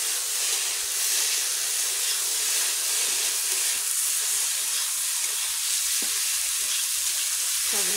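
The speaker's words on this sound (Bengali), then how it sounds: "এই যে আমি এখানে একটু সবজি তরকারি বসিয়েছি" A vegetarian mixed-vegetable dry curry with raw banana and eggplant fries in a pan, a loud, steady, close sizzle and hiss holding throughout with a faint knock or two of stirring.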